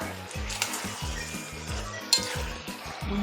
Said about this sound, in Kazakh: майға қуырып аламыз